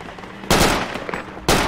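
Gunfire in the tactical shooter game Project Reality, two loud sharp blasts about a second apart, close and abrupt over faint background noise.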